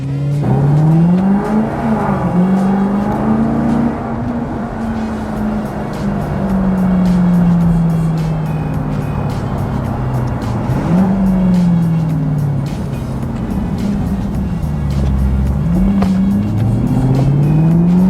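Maserati Gran Turismo S engine while driving, a loud continuous drone with rising and falling revs through gear changes, heard close and alone.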